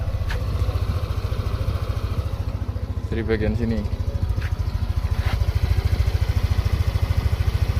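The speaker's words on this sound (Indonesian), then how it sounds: "Untuk mesinnya kita akan nyalakan. Mesin halus" A 2019 Yamaha Aerox scooter engine idles with a steady, rapid putter close by, while someone talks over it and a few clinks sound midway.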